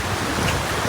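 Sea waves washing onto a beach, a continuous broad surf wash mixed with wind across the microphone, with no pauses.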